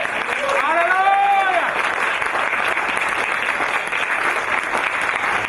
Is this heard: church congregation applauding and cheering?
yes